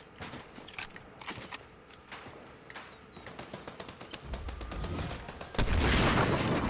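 Scattered gunshots ring out in a shooting video game, sharp isolated cracks with a denser burst of firing toward the end, at moderate loudness.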